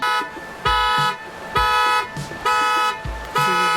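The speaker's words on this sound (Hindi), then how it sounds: "गाड़ी का अलार्म चला गया" A car alarm sounds on a ferry, blaring in four loud, evenly spaced pulsing bursts of a harsh tonal wail with brief gaps between them, close and dominant.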